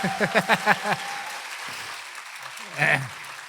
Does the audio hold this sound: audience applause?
yes